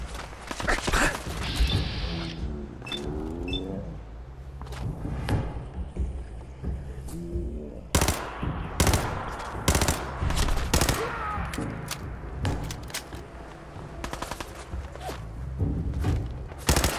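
Automatic turret fire in the video game Fallout 4 rattles out in repeated loud bursts and single sharp shots across the stretch, mixed with thuds and impacts, while a player talks now and then.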